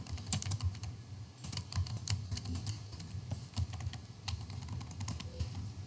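Steady, close clatter of a computer keyboard as C code for a for-loop is typed, a quick irregular run of light key clicks with no speech.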